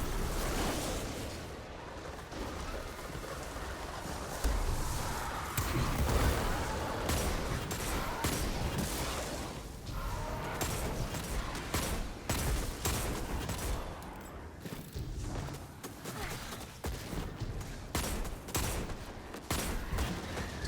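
Rapid weapon fire in Destiny 2 shot while airborne, a dense continuous rattle of bursts mixed with whooshing ability effects, loud and steady throughout with no talking.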